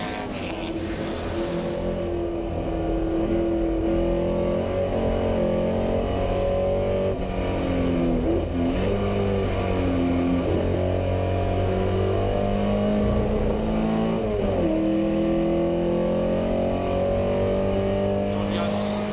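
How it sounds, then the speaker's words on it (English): Vintage race cars at the Goodwood Revival, including a small MG special being overtaken, hold a steady, loud engine drone with rising and falling revs as cars pass. A race commentator talks over the engines. "Lovely little MG special being overtaken there."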